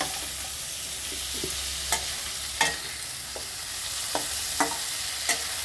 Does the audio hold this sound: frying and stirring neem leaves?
yes